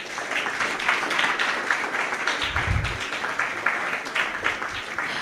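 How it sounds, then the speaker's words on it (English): A university innovation week audience gives a round of loud applause, a continuous wash of many hands clapping that holds evenly from start to finish, with almost no talk. "a round loud applause for all of them for participating"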